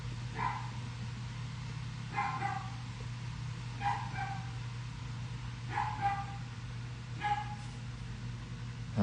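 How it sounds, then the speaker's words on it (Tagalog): Dogs yip and bark in short bursts about every two seconds, faint over a steady low hum indoors, with no talk. "Pinaglaruan yung mga aso."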